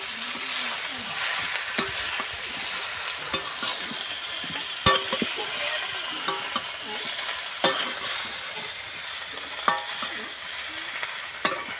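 Cauliflower florets stirred and fried in a wok for Bengali khichuri, a steady close sizzle of hot oil broken by repeated scraping and clinking strokes of the spatula against the pan, with no talking.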